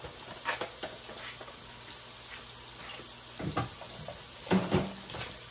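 Sausage fries in a pan for breakfast sandwiches, with a soft steady sizzle punctuated by a few louder crackles and scraping stirs, fairly quiet throughout.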